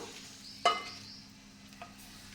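Chili powder mixture stirred into hot oil, giving one sharp scrape of the spoon against the pan followed by a faint sizzle and a softer second scrape, close and quiet.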